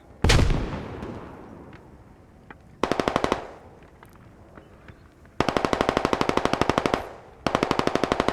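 Automatic gunfire in a multiplayer shooter video game, beginning with a heavy blast and then rapid, loud bursts of machine-gun fire in three separate volleys, close by and with no talk over them.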